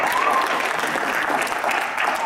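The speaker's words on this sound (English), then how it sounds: "Let's applaud her." Brief, dense applause from a high school arts slam audience, steady clapping throughout with crowd murmur mixed in.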